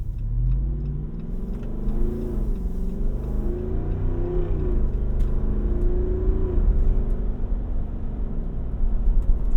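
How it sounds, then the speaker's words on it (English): A 2024 Jeep Wrangler Rubicon 392 Final Edition accelerates, its engine a deep steady rumble rising and falling in pitch as it pulls through the gears, loud and close from inside the cab. "It also sounds about how the Jeep would at speed."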